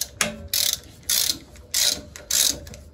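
A ratchet tightens cylinder head bolts on a Deutz 8006 tractor, giving five sharp, close ratcheting bursts at an even rhythm with short pauses between strokes.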